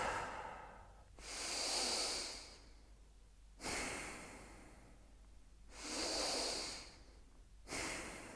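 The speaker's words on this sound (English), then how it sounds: "We're going to control the breath so that it comes into the chest only." Chest-only breathing exercise: two slow cycles of airy inhales and exhales, each a broad breathy rush lasting about a second or more, with pauses between, close and clear, no speech.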